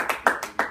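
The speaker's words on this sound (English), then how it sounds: "Let's give David Beckham a round of applause for doing" A handful of quick, separate hand claps sound close and dry over less than a second, with a thin spread of applause from a small studio audience.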